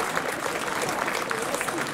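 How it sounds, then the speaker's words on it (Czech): A concert audience at a live brass band broadcast claps for itself, a dense continuous wash of applause throughout. "zatleskejte si."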